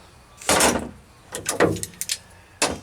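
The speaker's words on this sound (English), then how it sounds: "let's pop these clamps off." Clamps are popped off a fresh fiberglass repair on a Jeep Wrangler YJ hardtop, making a series of sharp, close clacks and rattling knocks, one loud burst first, then a cluster of smaller hits and a final clack.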